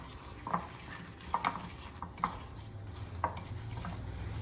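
A spoon stirs a mix of protein powder, dried fruit and chocolate in a bowl, giving soft, faint scraping taps at irregular intervals over a quiet kitchen background.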